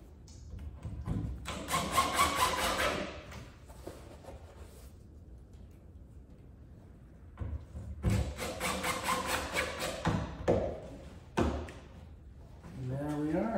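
Fasteners being driven into a wooden deck kingplank, two bursts of rapid buzzing, ratcheting driving a few seconds each, close and moderately loud, separated by quieter handling and knocks.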